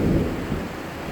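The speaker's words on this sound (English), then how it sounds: "it's been raining off and on crazy hard" Heavy rain pours down outside during a high school sports event, a dense, loud roar with a low rumbling swell near the start.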